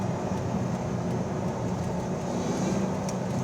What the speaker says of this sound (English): You can hear the supercharger